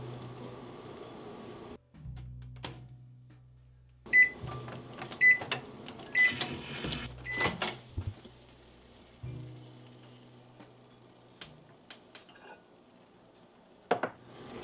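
A microwave oven hums steadily while heating a gingerbread mug cake. It stops briefly, restarts, and gives several short beeps alongside small clicks and clatters, close and fairly quiet.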